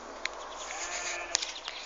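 A goat bleats on a farm, a short nasal call heard among steady broadband background noise with a few faint clicks, fairly close.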